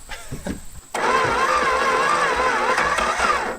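An abandoned muscle car's engine, started for the first time in 35 years, turns over and catches, settling into a steady running rumble after a few brief clicks and knocks.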